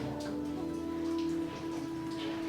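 Steady rain patters and drips inside a dark, low, very damp mine tunnel in a Chinese village, a constant close wash of drops with a faint hum beneath.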